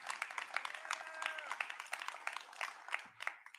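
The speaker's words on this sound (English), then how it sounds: "You can clap for them." Scattered, thin clapping from a small audience, with uneven individual claps rising and fading, faint and fairly close, with a faint voice briefly audible.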